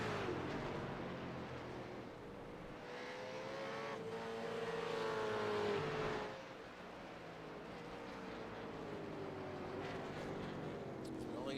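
V8 Supercars race cars at Virginia International Raceway, engines droning and swelling as cars pass at a distance, with a pitch rise midway before fading back, under steady commentary.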